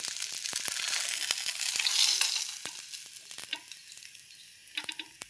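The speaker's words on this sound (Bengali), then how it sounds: "তো মাছ ভাজা হয়ে গেল।" Large katla fish pieces frying in hot oil in a home kitchen, with a spatula stirring: a loud, steady sizzling hiss with scattered sharp crackles and spits, easing slightly toward the end.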